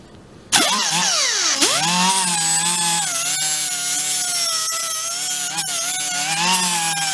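A grinding wheel bites into a metal torch holder with a sudden loud start, whining and sliding in pitch as pressure changes, then holding a sustained harsh, abrasive scream with brief scraping ticks, close and unbroken.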